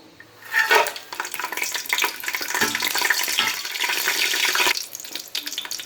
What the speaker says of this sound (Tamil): போட்டு லைட்டாக வந்து வதக்கிக்குங்க